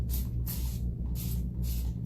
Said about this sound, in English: this is Dixie Belle's green spray